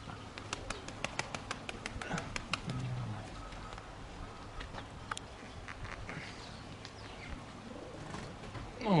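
Soft, low cooing from tumbler pigeons in a loft, a few short coos under scattered sharp clicks and faint background noise, with no talking.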